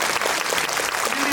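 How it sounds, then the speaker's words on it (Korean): Film festival audience applauding Lee Jung-jae at a Q&A screening of Hunt, a brief, dense burst of crowd clapping with faint voices mixed in. "큰 박수 부탁드립니다."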